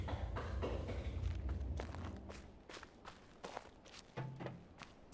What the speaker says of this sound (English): There's so many footstep noises in this game.